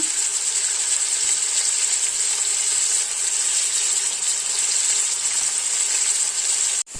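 Salted chicken pieces fry in a pan with a loud, steady, bright sizzle that holds evenly throughout, briefly cut off at the very end.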